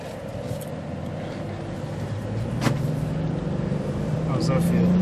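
A car accelerating up hills in a hilly residential neighborhood, its engine hum rising steadily in pitch and loudness from inside the cabin, heard under conversation.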